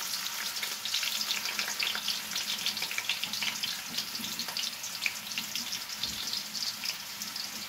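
Garlic and ginger, skins left on, fry in a pan with a steady bright sizzle that runs throughout. Faint scraping of a stirring spoon and a soft watery trickle sit underneath, and nobody speaks.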